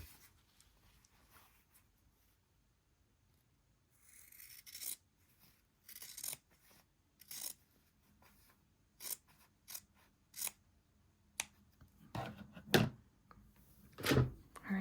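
Slightly dull scissors snip through quilting fabric in a series of short, crisp cuts, quiet at first and then quickening into a steady rhythm of close, rasping strokes.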